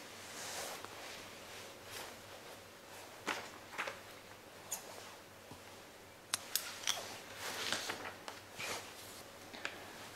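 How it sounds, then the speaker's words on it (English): Scissors snip through crochet yarn in a quiet room, a few sharp close clicks and cuts scattered among soft rustling of the yarn and hands. "then I'll cut this yarn."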